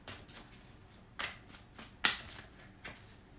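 Tarot cards are riffled and shuffled in a few quick bursts, with sharp flutters standing out against a quiet room and no talking.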